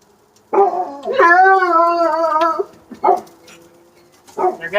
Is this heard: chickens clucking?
no